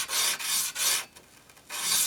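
A sharpening stone hones a Glock pistol striker in three loud, rasping strokes, each about half a second long, with short pauses between them and no talking.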